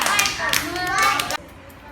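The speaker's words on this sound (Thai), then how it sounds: "เพื่อนๆปรบมือให้กลุ่มนี้หน่อยค่ะ" Children in a classroom clapping together for a group, a dense burst of applause mixed with kids' voices that cuts off abruptly after about a second and a half.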